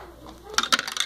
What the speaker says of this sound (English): Just gonna dump them in, and you're gonna see them coming out